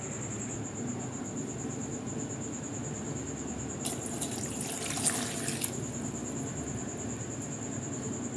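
A tumbler of water pours and splashes into a pan of tomatoes for tomato gravy, set against a steady high-pitched whine, with no voices.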